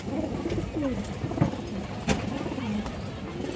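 Soft, low cooing of a female pigeon repeats several times against quiet background noise, with a couple of brief rustles.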